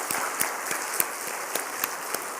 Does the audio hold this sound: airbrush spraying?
no